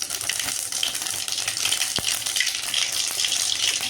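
Mustard seeds splutter and crackle in hot oil in a pan while cooking tomato rice, a dense, continuous hiss with scattered sharp pops, close and fairly loud throughout.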